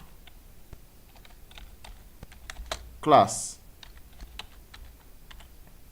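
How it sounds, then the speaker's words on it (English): Light, rapid keyboard clicks tap away at close range, with a brief spoken word breaking in midway. "try it by typing whatever you want"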